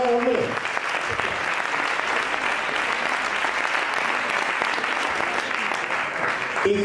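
Sustained audience applause for a sound technician at a flamenco singer's presentation, a dense even wash of clapping from a crowd, with a voice briefly audible at the start and end.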